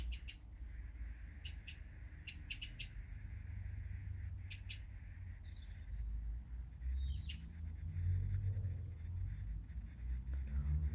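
A wren sings in short bursts of high, bright notes, fairly faint and a little distant, over a low background rumble with other birds calling around it.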